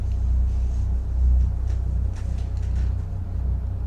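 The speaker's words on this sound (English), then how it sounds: "Oh, it's starting to thunder and lightning again." Thunder during a storm, a low, distant rumble that rolls steadily and swells briefly near the middle, with no talking.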